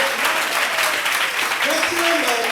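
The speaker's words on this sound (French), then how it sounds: "Est-ce que tu peux acclamer Jésus?" A church congregation cheers and acclaims Jesus at a Sunday service, producing a steady wash of crowd cheering and applause with raised voices running through the whole moment.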